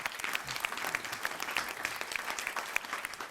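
Studio audience on a Malayalam comedy show stage clapping steadily, a brisk, even patter of many hands heard at a moderate distance with no speech over it.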